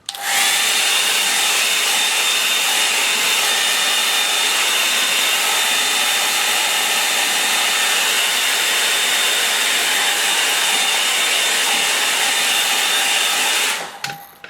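A hair dryer blows steadily on a watercolour painting, a loud continuous whirring roar with a high whine that runs unbroken for about fourteen seconds before cutting off.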